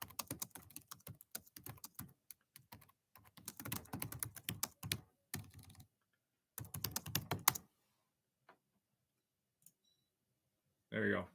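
Rapid computer keyboard typing in dense bursts sounds alongside a talking voice, then stops, leaving near silence with a couple of isolated taps and a short final sound.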